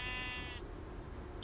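A sheep in a survival video game lets out a single short bleat at the start, followed by a steady low background rumble.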